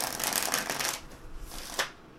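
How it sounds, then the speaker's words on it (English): A deck of playing cards shuffled in two quick riffle bursts, a crisp fluttering rattle, then a brief pause and a shorter second riffle, close and fairly quiet. "Let's get some shuffles in, and then we'll see what we've got for the day."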